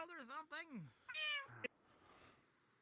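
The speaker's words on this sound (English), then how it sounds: "Oh, it is the okay. It's the cat." A cat meows several times in close succession, clear rising-and-falling calls ending with a short chirp, then quiet room background.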